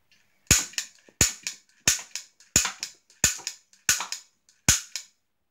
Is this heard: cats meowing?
no